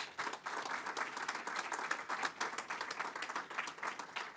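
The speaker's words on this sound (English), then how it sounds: "Can we give all those people a great hand of applause?" Audience clapping for newly announced board members at a Cricket South Africa 2027 ICC World Cup organising committee event, a steady, dense round of applause throughout with no voices.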